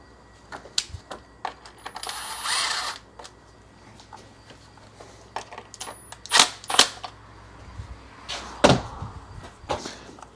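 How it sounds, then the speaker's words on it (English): A ratchet tightens an ignition coil bolt on a Nissan X-Trail T30 engine, giving close, crisp clicking in short separate bursts with quiet gaps between them. "Reinstall the bolt."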